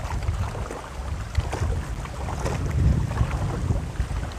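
Strong wind gusting through coconut palm fronds on Munroe Island, a steady broadband rush with louder swells and buffeting microphone rumble, no voices.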